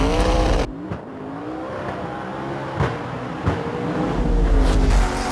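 Rally car drifting, with a loud engine roaring and revving close by and several sharp exhaust pops and bangs breaking through at intervals.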